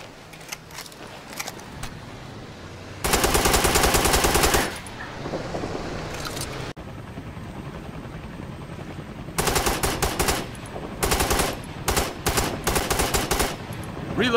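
Gunfire rings out in Operation Flashpoint Red River, with one long, loud automatic burst, quieter background shooting, and then several sharp rapid bursts close together toward the end.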